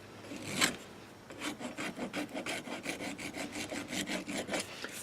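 A small broken hand file rasps across the sole plate of a persimmon wood golf club, one hard stroke and then a quick, steady back-and-forth scraping rhythm, close and fairly quiet.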